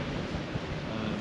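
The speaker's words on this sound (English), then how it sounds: "we just got this sort of easterly, southeasterly wind that's pushing through quite hard now." Strong easterly to southeasterly wind blowing hard on the coast at Ogmore Deeps during a fishing session: a dense, constant roar buffeting the microphone, loud and steady with no talk.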